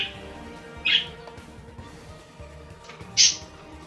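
Birds squawk in two short, shrill bursts a couple of seconds apart, sitting over a steady, muffled background.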